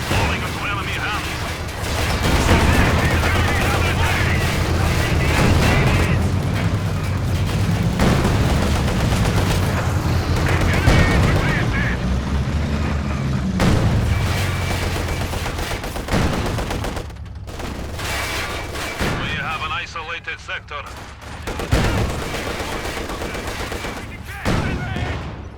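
Dense bursts of machine gun fire crackle through a Company of Heroes 2 battle, with heavier booms mixed into a loud, continuous din while someone talks over it.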